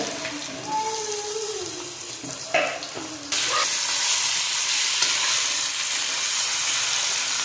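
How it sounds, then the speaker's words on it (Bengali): Potatoes cut into long strips dropped into hot oil for home-style street chowmein, a loud, dense, steady sizzle bursting up after a few brief clinks and scrapes, close and continuous. "তেল গরম হয়ে গেছে সর্বপ্রথম আমি আলুগুলো ভেজে দেবো"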